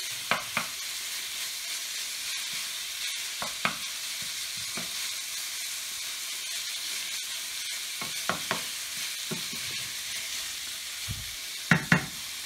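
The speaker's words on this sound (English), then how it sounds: "Give that a quick toss in the oil, get it coated. Let it fry." Bacon lardons frying in oil in a pan, a continuous close hiss of sizzling with scattered sharp pops and spatters, a couple of louder knocks near the end, no voices.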